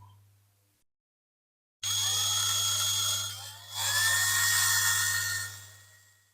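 A 1.5mm drill bores holes into a corroded diecast Dinky Toys No.283 BOAC coach, giving a loud, close, high-pitched whine that starts after a short silence, dips briefly, then rises again and runs steadily over a constant low hum.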